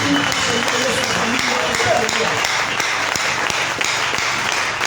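A church congregation applauding, dense steady clapping filling the space with voices mixed in throughout.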